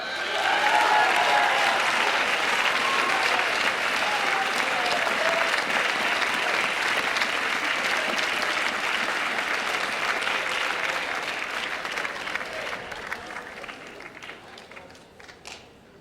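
An audience at a school academic awards ceremony claps after an award is presented. The applause is dense and sustained with scattered cheers, then tapers off gradually toward the end.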